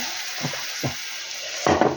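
Steady frying sizzle of meat in a pan, with a few bursts of louder hissing and splashing as water is poured into the hot pan.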